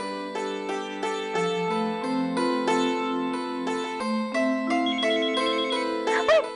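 A mobile phone ringtone plays a bright electronic melody of stepped tones, fairly quiet and clean, with no talking over it.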